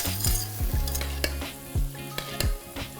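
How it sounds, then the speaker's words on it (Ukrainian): Green beans (asparagus beans) heat in butter in a pan, sizzling steadily while a utensil stirs and scrapes in several short strokes, close and loud with no talk. "Кладемо шматочок вершкового масла в нашу спаржову фасоль та поступово прогріваємо її."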